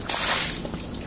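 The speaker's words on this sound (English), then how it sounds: "Okay, now I'm going to take out this water." Soapy water gushes and splashes out of a mobile washing bag outdoors in one brief, close burst.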